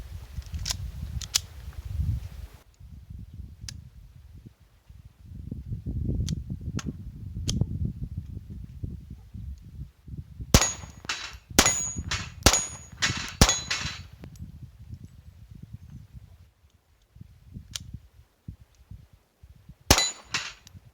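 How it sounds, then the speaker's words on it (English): A Ruger Mark III pistol firing .22 LR rounds: a couple of early sharp cracks, then a quick cluster of about half a dozen snappy shots with metallic clinks, and one more crack near the end. "Let's try it out of the Ruger Mark III."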